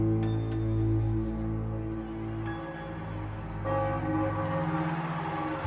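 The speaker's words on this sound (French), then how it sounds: "les cloches de la basilique Saint-Pierre résonnent dans Rome" Church bells of St. Peter's Basilica in Rome ringing, sustained overlapping tolls with long resonant hums and fresh strikes every second or so, heard alone at moderate distance.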